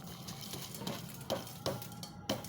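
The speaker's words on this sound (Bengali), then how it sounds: "একটু চালটা একটু নাড়িয়ে নিচ্ছি" Sticky rice being stirred in a boiling pot, quiet bubbling under a few distinct scraping strokes of a spoon spaced roughly every half second.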